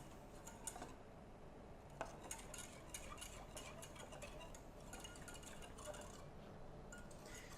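A utensil steadily stirring tangzhong flour-and-water paste in a pot over a medium stovetop flame, producing soft, continuous scraping with light metallic clinks, quiet and close with no talking.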